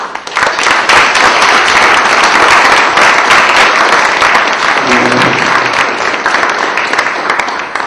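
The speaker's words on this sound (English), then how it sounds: "Let's give them a round of applause." A loud, sustained round of applause from a conference audience for a panel of gentlemen discussing the 2012 American elections, dense crowd clapping that holds steady throughout with a brief murmur of voices beneath it partway through.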